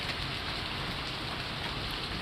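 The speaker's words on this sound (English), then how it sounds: "It's a lot of rain. A lot of rain." Heavy rain pours down as a dense, even hiss of drops striking surfaces, loud and unbroken from start to finish, with no voices.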